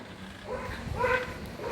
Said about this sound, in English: My other dog's in the backyard and decided to get into a fight.